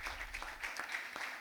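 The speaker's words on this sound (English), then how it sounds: "I'll just ask for another round of applause for our debaters" A school debate audience claps for the debaters at an inter-secondary school contest; the applause is faint and distant, with scattered claps over a low rumble.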